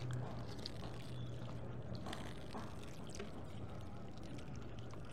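Purified drinking water runs steadily from a tank tap, a faint, even rushing hiss that continues unbroken with no clear speech.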